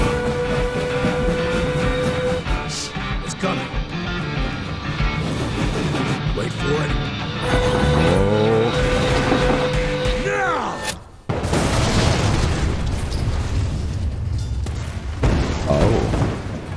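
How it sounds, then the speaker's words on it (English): Dynamite blasts a train apart in the video game Evil West: heavy booms and rumbling explosions, a sharp burst near the middle followed by crashing debris, set against game music and effects, with characters talking. "I know how to shape an explosion, Edgar."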